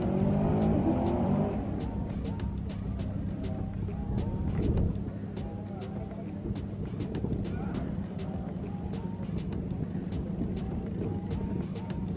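A Camaro and a Supra racing on a street, heard from a distance as a loud engine roar that fades into a steady, sustained drone with faint crackling and background noise.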